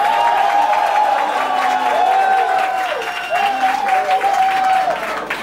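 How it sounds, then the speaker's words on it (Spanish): Sustained studio audience applause for a contestant on a televised talent reality show, dense clapping with cheering and whooping voices rising over it. "Aplausos para Cristina Tader."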